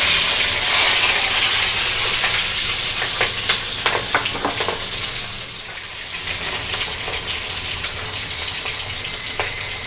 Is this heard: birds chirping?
no